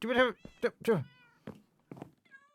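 Cats meowing in the video game Minecraft, several short close meows and mews in quick succession, with a faint voice in between.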